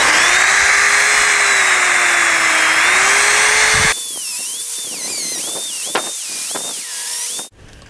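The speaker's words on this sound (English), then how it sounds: "we're going to try this Dremel wire wheel to kind of get in there and get some of that rust around the edges" A Dremel rotary tool with a small wire wheel brush grinds rust off metal on a 1982 Centuri Konami Time Pilot arcade cabinet, a loud high whine that steadies, then dips and rises in pitch as the brush bites, before stopping abruptly.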